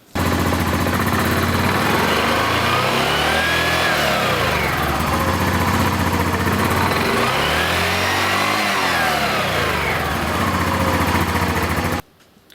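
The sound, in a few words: Yamaha Grizzly 700 ATV engine started, clutch cycled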